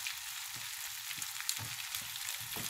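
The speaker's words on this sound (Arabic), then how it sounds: "كما كتشوفوا انا غادي نشحرهم" Potato wedges frying in a pan with oil and butter give a steady, close sizzling hiss that runs without a break, with faint crackles and pops scattered through it.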